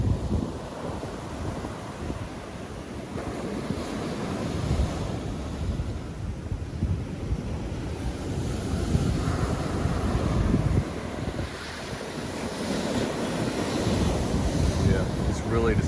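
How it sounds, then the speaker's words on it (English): Ocean waves break and wash onto a beach in Antique, Philippines, a continuous surging roar with wind buffeting the microphone throughout. "That's why I'm showing you the waves"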